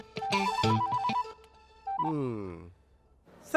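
An electronic telephone ringtone plays a bright melodic trill, then pauses before a second rising phrase, loud and close with no voices.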